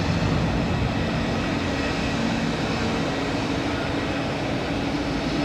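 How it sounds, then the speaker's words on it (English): An Air France Airbus A220 arriving from Paris at Zurich Airport gives a loud, steady broadband jet roar that holds level throughout with no talk. "Here we have Air France, an A220 arriving from Paris Charles de Gaulle."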